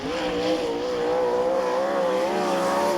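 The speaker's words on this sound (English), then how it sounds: "Engine revving really hard." Sprint car engine revving hard during a qualifying run at a speedway, a loud, sustained high-pitched roar that holds and slightly rises in pitch over three seconds, close and continuous.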